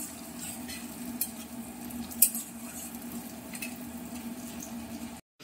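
Crushed ginger tempering sizzles in hot oil for khichuri, a steady low crackle throughout with a brief sharper spike midway before cutting off at the end.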